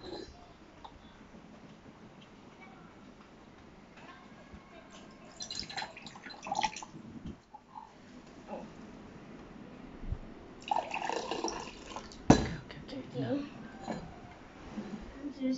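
Water is poured into a measuring cup to make blue pea flower tea, giving a trickling, splashing pour in two bursts with dish and cup clatter around it. People talk in the background.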